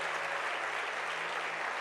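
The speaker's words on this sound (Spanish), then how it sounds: "Creo que podemos dar fuerte ese aplauso a Él" Church congregation applauding steadily, a dense, continuous wash of clapping that fills the whole moment without pause.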